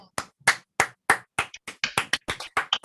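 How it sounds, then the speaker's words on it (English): A single person claps, boss starting a round of applause: a dozen or so sharp, close hand claps in an uneven but quickening rhythm, with no voices. "Boss starts another round of applause."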